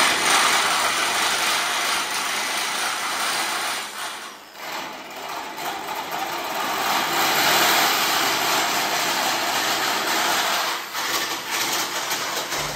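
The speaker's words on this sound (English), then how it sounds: "don't use a Sawzall" A Sawzall reciprocating saw with a metal blade cuts through metal roofing sheet, giving a loud, steady, broadband grinding roar that lasts throughout with one brief dip partway.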